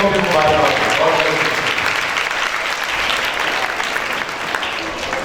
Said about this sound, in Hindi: हमारी तमाम बहनों के लिए भरपूर तालियों में इनको भी मुबारकबाद